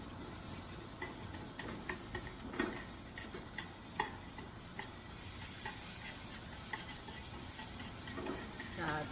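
Carrots being stir-fried in oil in a pan, a steady sizzle with repeated spatula scrapes and clicks against the metal throughout, close and moderately loud with no talking.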